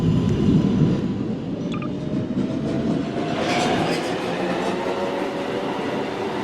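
Manhattan-bound 1 train on the New York City subway, heard from inside as a loud, continuous rumble and rattle of wheels with a rising whine, no pauses throughout.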